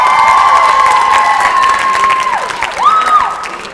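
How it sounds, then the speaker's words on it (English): A school talent pageant audience cheers and applauds the final six contestants, a loud, dense crowd roar with claps and shouts sustained throughout, a high electronic whine sliding through near the end. "let's give these final 6 a round of applause."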